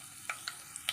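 Mustard seeds and dried red chillies frying in hot oil for a bitter-free vadukapuli lemon pickle, giving a faint steady sizzle punctuated by a few sharp pops and crackles.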